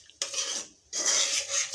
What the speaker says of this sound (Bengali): এখন একটু কষিয়ে নিচ্ছি।